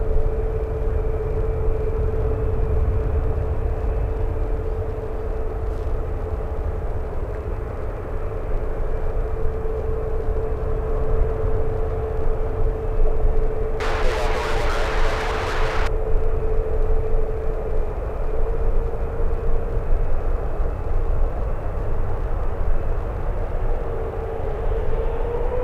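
A CRJ regional jet taxis back toward the gate at San Francisco airport after a rejected takeoff on runway 1 right, a steady distant engine whine and hum with a brief loud burst of noise partway through.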